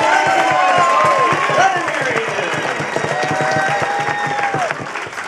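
Audience aboard the Golden Crab dining boat applauds after a meal, a steady wash of clapping with scattered voices and chatter running through it.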